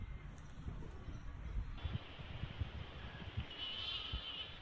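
Lambs bleat faintly on a farm amid gusty outdoor wind noise, with a few short calls rising from a steady breezy background.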